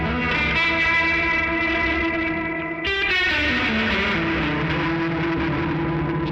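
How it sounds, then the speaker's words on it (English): A guitar played through a Hologram Electronics Chroma Console pedal with drive placed after reverb gives a thick, muddy distorted tone, sustained notes smearing together and shifting in pitch about halfway through, with no talking. "It gets a lot more muddy because the drive is going after the reverb, which always gives you that like cool muddy mess."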